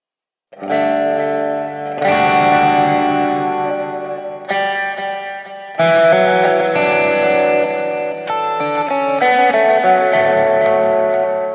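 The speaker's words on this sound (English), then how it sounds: "I can go from clean all the way to distortion." Electric guitar playing sustained chords through a thick distortion effect on a TONEX ONE pedal, loud and ringing, with several chord changes and no talking.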